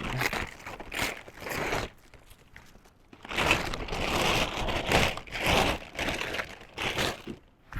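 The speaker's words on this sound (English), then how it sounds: "You'll go take this out and unwrap it from the plastic." Plastic wrapping crinkles and rustles as it is pulled off the center post of a VelociRAX MAX rack, in soft irregular bursts at close range with short pauses between them.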